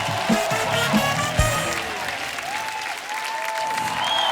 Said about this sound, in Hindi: तो आप सबकी जोरदार तालियों के बीच बुलाता हूं